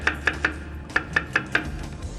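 A knife slices through a shallot on a cutting board in seven crisp, evenly spaced taps, close and clear, with a short pause midway and no voices.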